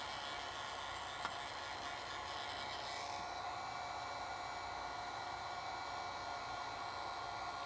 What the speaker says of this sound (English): Hair dryer, you're good.